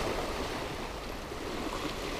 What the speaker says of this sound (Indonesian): Bahaya dalam ombak-ombak ni.